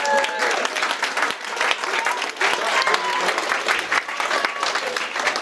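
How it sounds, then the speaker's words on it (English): Wedding guests applaud steadily during the speeches, a dense wash of clapping hands with scattered cheers, fairly close and loud. "So can we all give ourselves a round of applause?"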